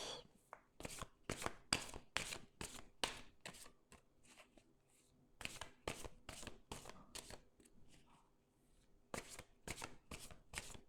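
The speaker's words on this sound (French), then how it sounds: "on va tirer 5 cartes" Tarot cards being shuffled by hand, a rapid series of crisp riffling bursts in quick rhythmic clusters with short pauses between, close and clear with no talking.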